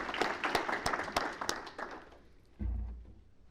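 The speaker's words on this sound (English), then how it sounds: "you can give them a round of applause" Light applause for a schools division team at a board meeting, a handful of scattered claps fading out over two seconds, followed by a low thump.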